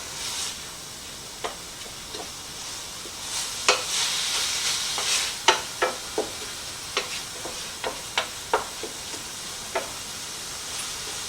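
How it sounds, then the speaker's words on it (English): Pork sizzles in a hot pan with a steady hiss, while sharp clicks and pops from the spatula and spattering fat break through. No one speaks. "Right now I'm trying to cook my meat."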